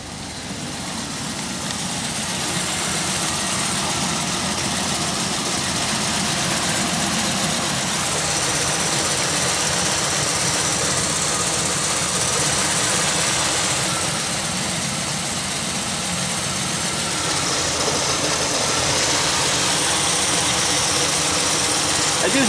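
A Pontiac Aztek engine idles steadily with a vacuum fault, a low continuous rumble under broad hiss that holds level from start to finish with no clear revving.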